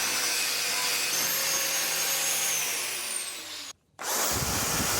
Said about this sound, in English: A wire wheel on the drill got to all the little bits the grinder couldn't reach.